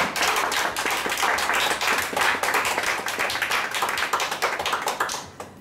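A wedding congregation breaks into dense, sustained applause with rapid overlapping claps filling the room, fairly close and loud, before tapering off near the end.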